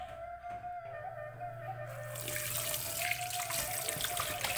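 Running tap water splashing into a sink while catfish are washed by hand, a steady close rush that swells louder and brighter partway through, with a low hum underneath.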